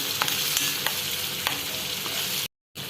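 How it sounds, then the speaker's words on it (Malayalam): A jaggery and ginger mixture for Kerala-style injikkoottu boils on a stove in a pan, giving a steady close hiss and bubbling sizzle throughout. There is a short drop to silence near the end. "അപ്പം നന്നായി ഒന്ന് തിളപ്പിക്കണം ഫ്ലെയിം സാധാ ഇതിൽ വെച്ചാൽ മതി ഒന്ന് നന്നായിട്ടൊന്ന് തിളയ്ക്കണം"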